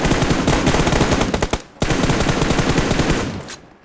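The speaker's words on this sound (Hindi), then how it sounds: "प्रोन शॉट लेते हुए फोर एक्स के साथ एम फोर के साथ" Rapid, sustained automatic M4 rifle fire in the mobile battle royale game BGMI, shot prone with a 4x scope, loud and continuous with one brief gap midway before the volley resumes.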